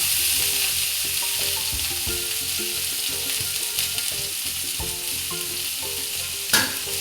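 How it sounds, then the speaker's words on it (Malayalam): Spinach for a Kerala-style cheera thoran fries steadily in a pan with coconut, a constant close sizzle broken by repeated scraping stirs and a sharper clatter near the end, with no voices. "അപ്പോൾ ഈ ചീര അങ്ങോട്ട് ഇടാം"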